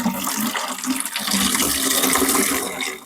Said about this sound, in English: The water shoot out of pipe.